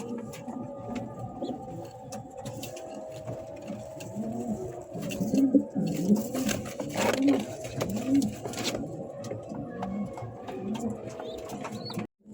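Many King and Sirajee Lahori pigeons coo in overlapping, repeated low throaty calls that swell in the middle of the stretch, with a steady bed of loft ambience.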